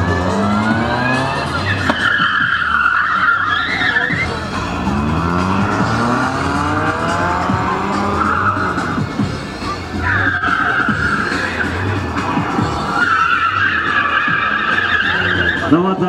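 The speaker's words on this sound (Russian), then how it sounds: "его высокий автомобиль не падает, а просто выполняет маневр" A tall car's tires skid and squeal loudly during a speed maneuvering competition at a motorsport cup stage in Mogilev. The shrill squeal is sustained and shifts in pitch over a steady engine drone.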